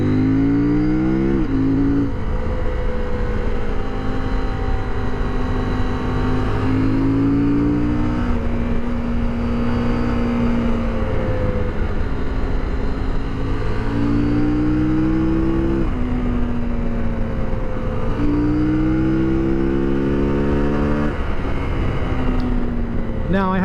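A 2023 CFMOTO Ibex 800 T motorcycle is ridden hard on twisty roads, its engine revving up through the gears and dropping back repeatedly, loud and close with steady wind rush underneath.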